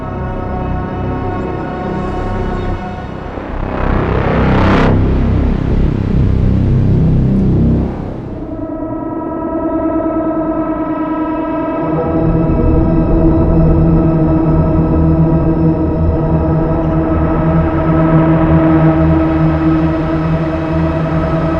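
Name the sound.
modular synth drone with saturated shimmer reverb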